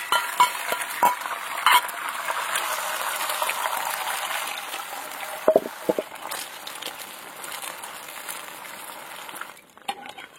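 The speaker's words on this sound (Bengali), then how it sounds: "এইভাবে এই এগরোলটাও একদম ভেজে নেব।" A steady, soft sizzle of an egg roll frying in a pan, with a few light clinks and stirs breaking through the continuous crackle.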